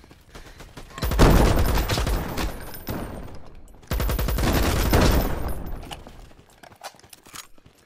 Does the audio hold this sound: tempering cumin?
no